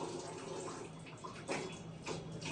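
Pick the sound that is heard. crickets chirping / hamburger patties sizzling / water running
water running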